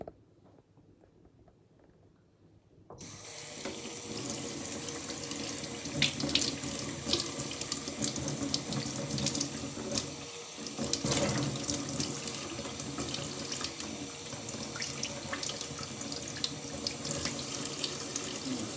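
Water gushes steadily from a faucet after a few seconds of quiet, a continuous close splashing that runs on without pause.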